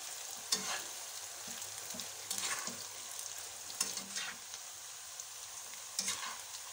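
Tempeh slices frying over medium heat and being turned in a pan. A low, steady sizzle runs throughout, broken by several distinct spatula scrapes and flips at irregular intervals.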